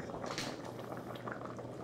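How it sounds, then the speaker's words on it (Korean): A pot of food bubbles and boils on the stove, a soft steady simmer of popping bubbles heard close up for a short moment, quiet and with no voices. "보글보글 잘 끓고 있네."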